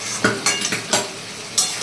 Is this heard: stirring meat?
yes